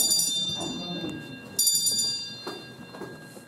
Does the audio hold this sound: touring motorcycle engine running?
no